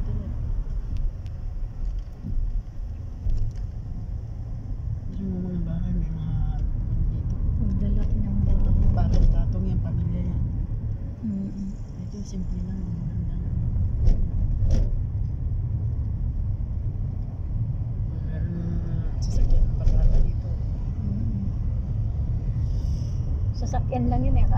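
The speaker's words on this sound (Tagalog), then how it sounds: "Sasakyan lang yun eh, akala mo ano na." A vehicle passes by outdoors with a steady low rumble swelling and fading over about twenty-five seconds, with wind noise on the microphone and people talking faintly in the background.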